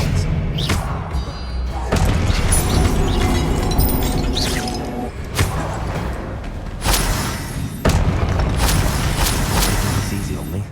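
The Expelliarmus spell is cast in the video game Hogwarts Legacy, with sharp magical bursts, thuds and clattering impacts over steady game background sound.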